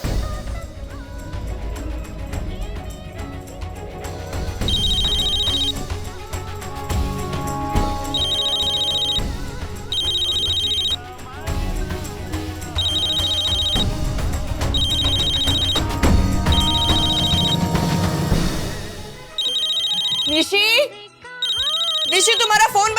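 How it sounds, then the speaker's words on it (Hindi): A phone rings in a repeating electronic pattern, several short bursts separated by pauses, heard over music and a bed of background sound, with speech near the end. "तुम्हारा फोन बज रहा है"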